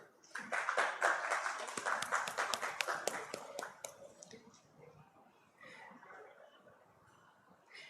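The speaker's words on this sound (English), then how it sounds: "please help me invite with a round of applause Mr. Inderjeet Ghai" Audience applause at a road safety seminar in Chandigarh, welcoming a company director to the stage: dense clapping starts loud, then gradually thins and fades out over several seconds.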